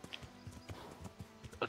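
An adult horse's hooves clip-clop in the video game Kingdom Come: Deliverance, a quick, even run of light hoof strikes close by, with a brief higher sound at the very end.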